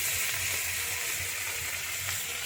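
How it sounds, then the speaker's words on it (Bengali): Foli fish fries in very hot oil in a home kitchen. The sizzle is a loud, close, continuous crackling hiss with no talk. "এইভাবে মাছটা ভেজে নেব।"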